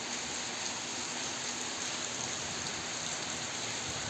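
Steady rain falls in Dehradun, a constant even hiss of drops with no pauses or speech, close and moderately loud throughout.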